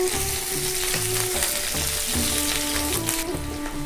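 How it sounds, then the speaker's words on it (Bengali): Onions hit hot oil in a pan for raw banana kofta curry, giving a continuous close, loud sizzle with a faint rhythmic background beat underneath and no talking. "এবার আমি পেঁয়াজটা দিয়ে দিচ্ছি"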